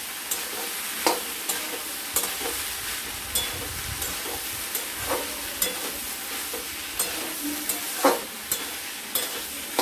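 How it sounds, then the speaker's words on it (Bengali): Chela fish curry stirred and fried in a pan, with a steady sizzle and hiss under repeated scraping strokes of a spoon at irregular intervals, close and moderately loud, no talking. "দিয়ে এটাকে ভালো মতো করে নাড়াচাড়া করব। আমরা কষে নেব, মোট কথা আমরা ভালো মতো করে কষে নেব।"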